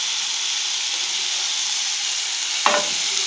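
Steady frying sizzle hisses in a pan for about three seconds while a tempering of chilli is fried, with one brief scrape of stirring near the end; no voices.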